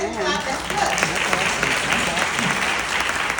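Sustained audience applause at a church testimony service, a dense steady wash of many hands clapping with voices and cheers mixed in throughout.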